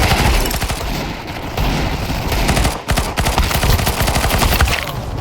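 Rapid bursts of automatic gunfire from a PP-Bizon and other weapons in a Counter-Strike 2 arms race match, loud and dense, with a brief lull near the middle before the shooting resumes.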